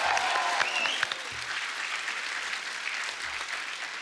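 Dense, sustained applause from a television comedy show studio audience, loud and steady throughout with a wash of crowd noise and no voices over it.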